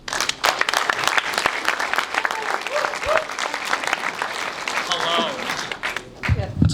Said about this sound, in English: It's that easy to get applause.